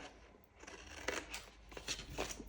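Scissors cut planner folder material at an angle, producing a few crisp snips and crunchy slicing strokes close by, quiet and unaccompanied by speech.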